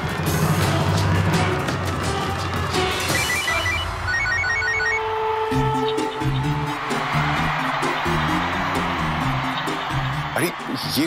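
A telephone rings in short repeated electronic trills over loud televised football match commentary and crowd noise, then a melodic ringtone pattern continues.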